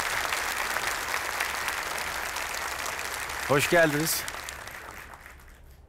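Applause from an audience at a Quran recitation contest, broadband clapping under speech that fades near the end, with a voice breaking in briefly toward the close.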